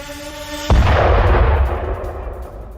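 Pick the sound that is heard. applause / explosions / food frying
explosions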